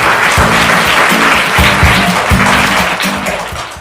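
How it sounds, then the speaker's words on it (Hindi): Loud studio audience applause on a quiz show, dense clapping running throughout while low, tonal music or effects pulse beneath it in short repeated bursts. "जोरदार तालियां हो जाए भाई के लिए।"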